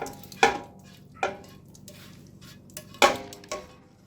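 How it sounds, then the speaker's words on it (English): A spatula scraping a tomato, jalapeño, onion and spice chili mixture out of a pan for Texas chili, giving a few sharp scrapes and clanks spaced apart, close and fairly loud over a low hum, no talk. "Another reason for a spatula. Gets everything out."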